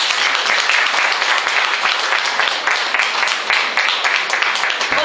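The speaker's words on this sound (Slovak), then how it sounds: "a to si určite zaslúži potlesk" Sustained applause from a live audience at a folk song festival, dense and steady clapping for a full five seconds with no voices over it.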